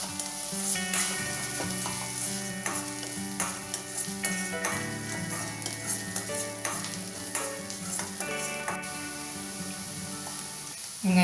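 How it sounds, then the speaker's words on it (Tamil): Sliced onions sauté on medium flame for a Marwadi besan gatte sabzi, a gentle continuous sizzle broken by repeated spatula scrapes and taps, fairly quiet and close, with music playing underneath. "வெங்காயம் வதங்குது, நிறம் மாறுது பாருங்கள்."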